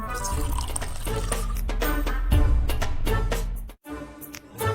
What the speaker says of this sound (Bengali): এখন এই তেল জলের সাথে মিশিয়ে দুঃখীকে খেতে দেব